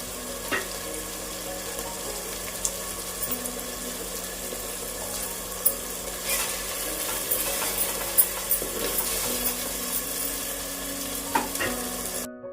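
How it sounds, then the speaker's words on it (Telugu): Masala paste for a fish curry fries in a pan with a soft, continuous sizzle, broken by occasional stirring scrapes and light clinks, heard close and without talk. "మసాలా పేస్ట్ రుబ్బాం కదా, అది వేసాము. ఇది కొంచెం వేగనిద్దామండి."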